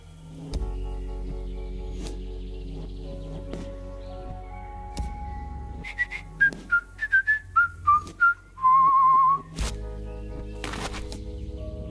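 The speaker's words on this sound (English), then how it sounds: "Whistle 2 times" Whistling from the video game Trüberbrook, a run of short tonal whistle notes, a rising and falling melodic sequence ending in a longer held note, heard over a soft game music backdrop with a few sharp clicks.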